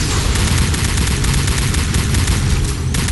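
Grenade blast in the shooter Elite Force 2, a loud, dense rumble of explosion and gunfire filling the whole stretch with a steady roaring wash and no clear gaps.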